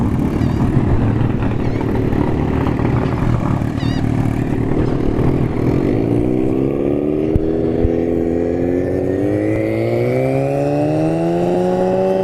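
A turbocharged ZX14 motorcycle at a drag strip idles and rumbles loudly, then launches and screams upward through rising revs that climb steadily for several seconds.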